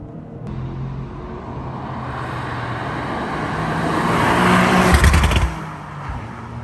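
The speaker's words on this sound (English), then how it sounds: "I love the mechanical noises that this engine makes" A Toyota GR Corolla engine and exhaust roar steadily, swelling louder as the revs climb, then easing back down. No talking.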